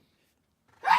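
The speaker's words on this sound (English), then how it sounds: "I had to sneeze." A single sneeze bursts out near the end after near silence, short, close and fairly loud.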